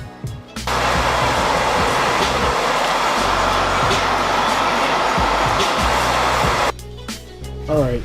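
Car tail light being sanded by hand, a continuous loud rasping scrub running for several seconds with brief pauses at the start and end.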